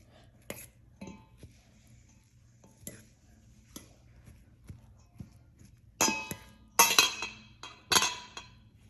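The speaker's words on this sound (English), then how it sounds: "you're gonna use a fork and a fluffing spatula to fluff the couscous" A fork and spatula fluff couscous with sparse, light clinks against the dish, growing into a few sharper, louder scraping clatters toward the end.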